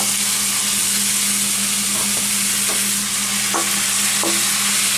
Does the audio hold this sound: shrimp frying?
yes